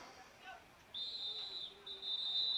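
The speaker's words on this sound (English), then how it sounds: "And we got whistles on the play." A referee's whistle blows during a middle school football game between TCA and Fayette Academy, two sharp high blasts, the second one longer, carrying from the field over faint crowd noise and talk.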